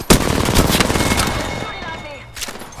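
Gunfire in the Apex Legends video game, Season 9: a loud, close barrage of rapid shots rattling continuously before tailing off into a brief lull and a final crack.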